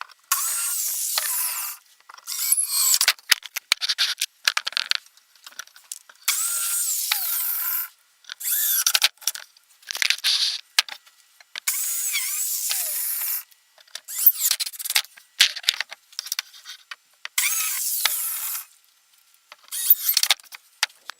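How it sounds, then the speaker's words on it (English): Cordless screwdriver driving screws into the corners of a homemade wooden workbench, the top set upside down, in repeated whirring bursts of a second or two separated by short pauses, close and fairly loud with no talking. "So on the last one I just put a screw in each corner, so I guess I'm going to do that again."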